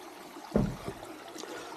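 Clean water flows on a farm lot in Real, Quezon, heard as a soft, steady trickle with one brief louder splash near the middle.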